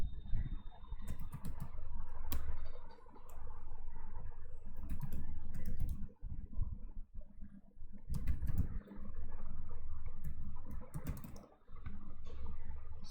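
Quick bursts of keystrokes clatter on a computer keyboard as a name is typed into an online form, close and fairly quiet, with short pauses between runs of clicks.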